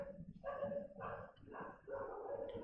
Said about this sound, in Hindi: ये देखो कुत्ते भौंक रहे हैं।